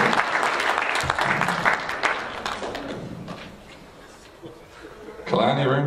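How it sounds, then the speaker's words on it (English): A school assembly audience breaks into loud, sustained clapping, which tapers off before a voice speaks over a brief swell near the end. "Big clap for Mr. Lee."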